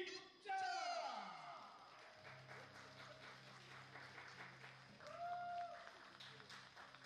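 Spectators at a women's football match between Changnyeong WFC and Hwacheon KSPO at Changnyeong Sports Park applaud as the players walk onto the field, a moderate spread of clapping and crowd noise in an open stadium with voices over it.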